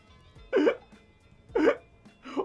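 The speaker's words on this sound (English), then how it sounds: "Oh, I got hiccups." Three sharp hiccups come at roughly one-second intervals, close and distinct, with quiet in between.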